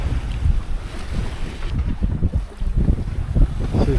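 A sailboat sails on open sea off Cuba near Cienfuegos in light wind of about 9 to 10 knots, with steady wind rush over the microphone and water washing along the hull, no voices.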